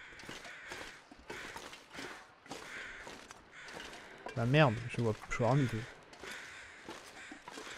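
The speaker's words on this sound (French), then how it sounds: "Corbeau, corbeau." Crows caw twice in The Long Dark, in a snowy wilderness setting, with two harsh calls near the middle over faint game ambience. Someone speaks quietly in French before and during the calls.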